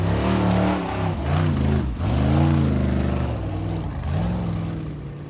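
A Formula Offroad buggy with four-wheel steering climbs a hill at the 2025 Icelandic round in Blönduós, its engine revving hard and rising and falling in pitch, loud and close with no talk.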